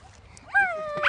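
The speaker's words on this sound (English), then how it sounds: "barking at squirrels" A dog barks and yips at squirrels in the woods beside a lake, a short rising whimpering yelp close to the listener with a louder bark at the end, and a voice is present nearby.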